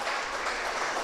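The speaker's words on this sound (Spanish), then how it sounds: "Dale un aplauso a Cristo allí donde tú estás." A church congregation claps in response to a preacher's call, a brief, steady wash of clapping with no voices over it.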